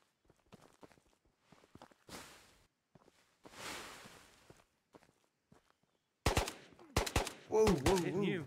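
Gunfire in the VR shooter Ghosts of Tabor: quiet footsteps and shuffling movement give way to several sharp, loud bursts of automatic fire near the end.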